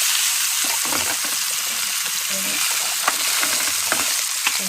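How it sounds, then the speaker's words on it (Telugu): Fish pieces fry in just two spoons of oil, a loud, continuous sizzle with occasional crackles and the scrape of stirring or turning, heard close up without speech. "అదే ఆయిల్ నేను 2 స్పూన్ల ఆయిల్లోనే కొన్ని ఫ్రై చేస్తున్నాను."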